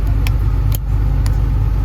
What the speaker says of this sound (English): And that is your exhaust brake.